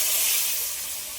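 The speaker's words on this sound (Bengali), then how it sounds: "এবার পরিমাণ মতন জলটা দিয়ে দিচ্ছি" Water hits a hot pan of cauliflower curry cooked with fried spices, giving a loud, close burst of sizzling hiss that fades slightly over about a second.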